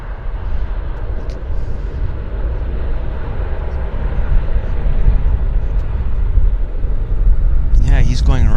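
An airliner with spoilers up rolls out along the runway after landing at Vancouver Airport, a steady broad rumble of engine and wheel noise that builds slightly, with a voice talking near the end.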